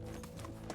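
Horse hooves clip-clopping at a steady trot in Medieval Dynasty, sounding close and continuous over a low rumble of movement and background game sound.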